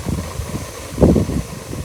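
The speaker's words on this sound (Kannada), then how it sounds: "ಗಾಳಿ ಏನು ಗಾಳಿ ಹಿಂಗೆ ಬರ್ತೈತೆ" Strong wind at an outdoor treetop camping spot buffets the microphone in low, rumbling gusts, with one heavier blast midway and no talk.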